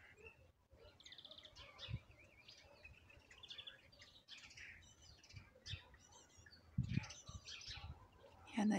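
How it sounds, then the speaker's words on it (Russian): Small birds sing outdoors on a spring day in Ukraine, with scattered high chirps and trills coming and going at moderate distance over quiet background noise. "Надеюсь, вам слышно, как птички поют красиво."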